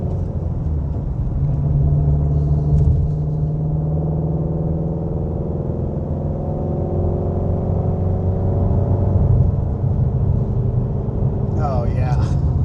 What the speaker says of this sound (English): I think it's probably the best sounding stock exhaust I've ever heard